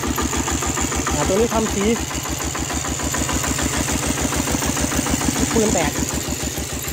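A steel-wheeled plowing tractor engine with a loud exhaust idles in a steady, close, rapid thumping rhythm, while someone talks over it.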